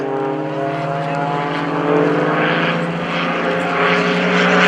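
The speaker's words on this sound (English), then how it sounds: "Well, not formation, but definitely in trail, high-speed passes as Greg Connell pulls out." Aerobatic propeller airplanes making high-speed passes in trail at the 2015 Greenwood Lake Airshow, a loud, droning engine roar that holds steady and swells slightly as they pass, with no talking.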